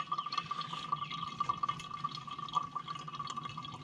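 Coffee poured from a pot at a campsite, a soft steady trickle of liquid filling a cup, faint and close with small drips and clinks over a quiet outdoor background.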